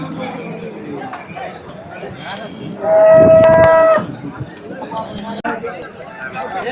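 A native cattle animal, likely a bull, moos loudly for about a second at a village cattle market, over steady crowd chatter and bustle.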